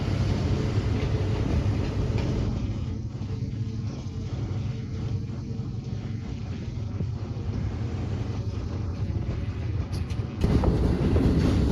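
Awam Express train rolling along the track on the approach to Peshawar Cantonment, a steady loud rumble with wheel noise heard from close by, without any talk.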